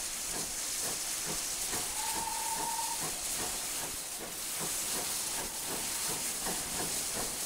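A GWR pannier tank steam locomotive, number 6412, departing Buckfastleigh on the South Devon Railway in Train Simulator 2020: a steady steam hiss with rhythmic chuffing exhaust beats and a short whistle tone, moderately distant.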